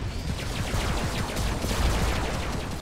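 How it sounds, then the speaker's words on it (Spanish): Rapid laser-weapon fire in the Robocraft video game, a dense stream of sharp repeated shots crackling continuously throughout with no pauses. "Hay algunos disparos del láser"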